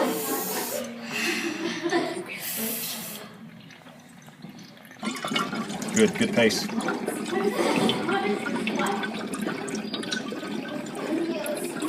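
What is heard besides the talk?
exhaling into a hose, bubbling water in lung capacity test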